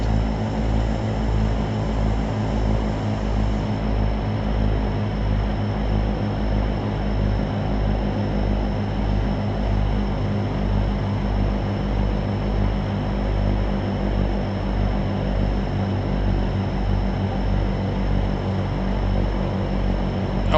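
Simulated Evektor EV-55 twin-turboprop in X-Plane 11 taxiing and shutting down: a steady, loud, close propeller drone with a pulsing low throb that holds for the whole stretch, no voices.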